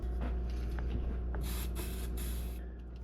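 Penetrant sprayed into the engine of a 1991 Suzuki Quadrunner 250 ATV, three short hissing bursts from an aerosol can over a low steady background hum.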